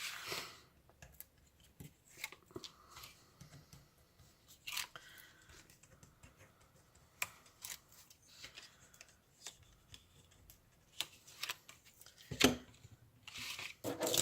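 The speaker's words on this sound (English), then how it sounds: "So I'm just going to trim out a piece of this plastic" Scissors trim plastic stamp packaging in a quiet room, making soft, intermittent snips and crinkly rustles close by, with a sharper cut near the end and no talking.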